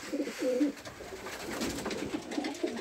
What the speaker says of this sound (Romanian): Le-am dat mâncare porumbeilor.